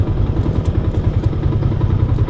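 A motorcycle engine idles and putters at the parking area of a river resort at Ilog Bato in Laur, Nueva Ecija, loud and close with a steady, rhythmic low chug.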